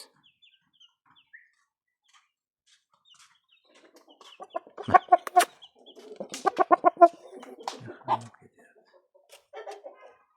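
Chickens clucking close by, scattered soft calls growing into bursts of rapid clucking in the middle, with quiet gaps between.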